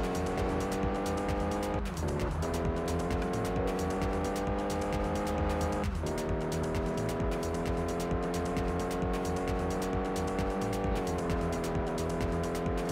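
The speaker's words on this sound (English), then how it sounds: "At least the Ford GT in this game is a little bit realistic in the fact that it has got those long gears" Ford GT engine racing in Test Drive Unlimited, a loud continuous high-revving roar holding long gears, with brief dips at gear shifts and tire squeal throughout.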